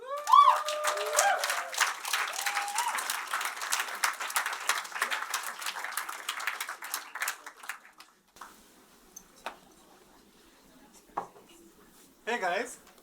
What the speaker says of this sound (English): very warm round of applause for Bipin.